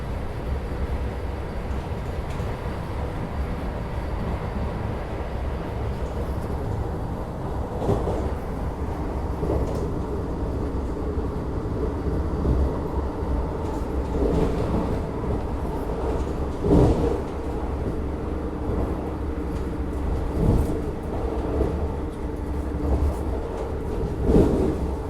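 A Vande Bharat train running on the Mysore–Chennai route and crossing another express train, heard as a loud, steady low rumble of rolling stock with a few faint clacks and a brief swell of passing noise.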